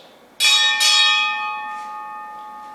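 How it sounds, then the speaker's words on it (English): A ship's bell is struck twice in quick succession at a military retirement ceremony, two bright metallic clangs that ring on and slowly fade. "Time orderly, strike 2 bells."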